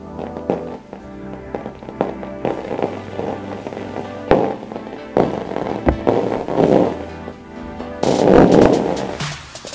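Liquid nitrogen boils on carpet in a burst of crackling mini explosions: sharp pops and snaps come irregularly, then swell into a loud, dense crackle near the end.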